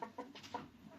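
A fighting rooster for sale, a prized breed of cock, gives several short, close clucks and throaty calls in quick succession, alone with no talking.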